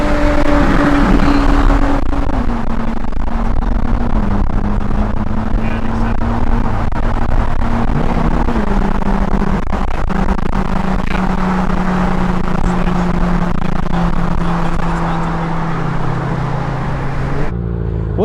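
A 2012 Ferrari 458 Italia's 600-horsepower V8 engine runs loud and close for about eighteen seconds, a steady droning roar whose pitch steps up and down as the revs shift, then cuts off abruptly near the end.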